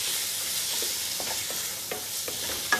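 Chicken stirred in a hot pan, a continuous hiss of frying with soft, irregular scrapes and taps of a spoon against the pan, close up, with no talk.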